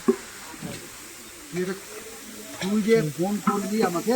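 Boondi, gram-flour droplets, frying in hot oil in a busy ceremonial cooking kitchen, giving a steady soft sizzle and hiss, with people talking over it.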